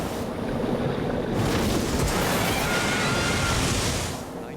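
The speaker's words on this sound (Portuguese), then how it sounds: "E está sendo castigado por ondas violentas." Violent open-ocean waves pound a wrecked ship stuck on a reef in the Pacific, a dense continuous roar of crashing water and wind with a surge swelling midway, loud and close throughout.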